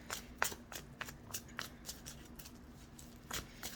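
Playing cards shuffled by hand at a fortune-telling reading, a run of crisp riffling bursts and soft flicks spread across the moment, fairly quiet and close over a low steady hum, with no talking.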